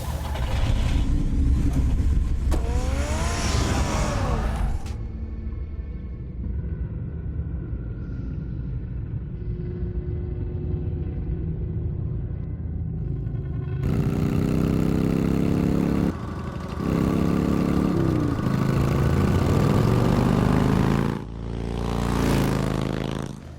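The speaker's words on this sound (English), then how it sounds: "Get the car ready, Alfred" A car engine in the Batman Telltale video game rumbles low and steady, then swells into louder revving surges near the end, with no talking.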